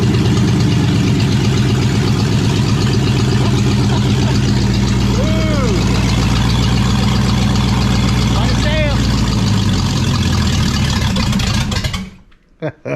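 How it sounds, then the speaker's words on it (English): A freshly built engine runs loud and steady, a rough, throbbing idle at close range that fills most of the stretch before cutting off near the end, with people talking over it. "It cranked longer the second time than it did the first."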